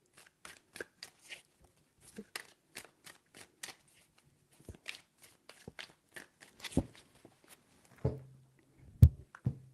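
Tarot cards are shuffled by hand in a brisk series of crisp flicks and riffles, close and fairly quiet, ending with a few slaps and taps as the deck is squared, with no talking.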